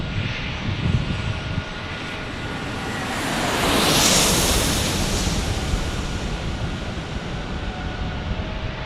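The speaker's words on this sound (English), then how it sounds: "it looks like we got a global here landing right now." A Bombardier Global business jet lands at San Diego airport, its engines a loud, broad roaring rush that swells to a peak as it passes close and then stays steady, with no voices.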